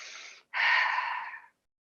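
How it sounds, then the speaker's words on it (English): A Lebanese woman MMA fighter takes one deep breath, a short airy inhale, a brief pause, then a longer, louder breath that fades out. It is close and clear, with no talking. "Then I take a deep breath like this"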